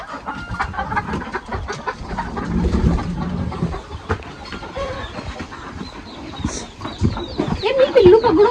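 Hens and chicks in a village yard cluck and cheep in scattered bursts, close by, amid rustling outdoor background noise with a few sharper chirps near the end.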